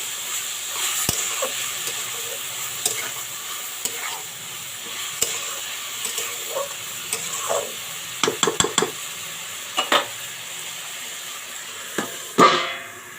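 Ivy gourd (kundru) fried with salt, turmeric and chili powder in a pan, a steady soft sizzle beneath repeated sharp scraping and clinking stirs of a spatula, several quick strokes clustered together, close and fairly loud.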